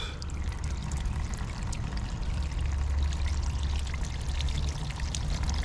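Coolant pours steadily from a leaking radiator on a dually pickup truck in a continuous splashing stream, loud and close, with no break for several seconds.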